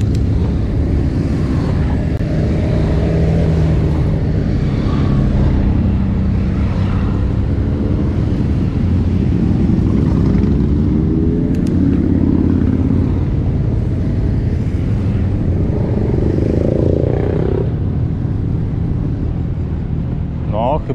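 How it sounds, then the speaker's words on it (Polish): Many motorcycles pass along a road during a long-distance cycling ride, a steady engine drone that swells and fades under continuous talking. "Masa motorów."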